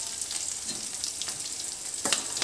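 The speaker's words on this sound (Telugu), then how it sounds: "అలా 1/4 వెల్లుల్లి రెబ్బలు అలా నలిపేసి వేసుకోవాలి ఆయిల్లోకి" Crushed garlic cloves sizzle steadily in hot oil, a bright, continuous frying hiss close up with a slight swell near the end.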